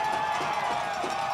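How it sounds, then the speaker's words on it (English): North Alabama Lions football fans cheering in the stands during a game against Valdosta State, a steady, dense crowd roar heard at a distance with no break. "North Alabama fans up and cheering, trying to root on their Lions."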